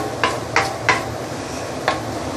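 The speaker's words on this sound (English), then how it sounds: "use low medium heat to slowly saute our curry paste here" Curry paste sauteing slowly in a pan over low-medium heat: a soft steady sizzle with four light scraping stirs of a utensil against the pan, no voices.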